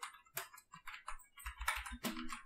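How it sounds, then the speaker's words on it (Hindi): Text is being typed on a computer keyboard in quick, irregular bursts of close, crisp key clicks with short pauses, and no voices. "मैं आपको लिख के दिखाता हूँ"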